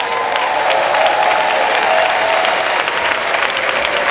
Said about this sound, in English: So you all stand up and take a clap for yourself.